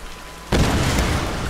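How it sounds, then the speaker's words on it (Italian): A glitched explosion in Tomb Raider Definitive Edition on PS4 bursts in abruptly after a quiet moment, a loud broadband blast that holds as a sustained roar without decaying. "Quella era un'esplosione buggata, forse."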